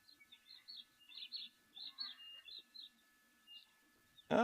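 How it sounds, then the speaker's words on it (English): A long-billed crombec repeats quick, high chirping notes in short bursts, faint against a quiet background at an African waterhole, before a sudden loud noise at the end. "Sounds like a long-billed crombeck. That's busy calling that."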